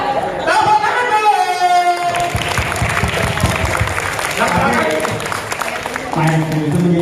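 An audience at a Ramadan welcome religious talk breaks into applause, a dense, loud wash of clapping mixed with crowd noise and voices.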